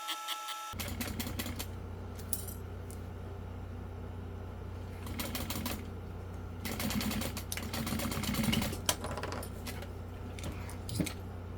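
Sewing machine stitching binding on a fabric wristlet, a steady low hum with bursts of rapid mechanical clatter starting and stopping, close and fairly quiet, with no talking.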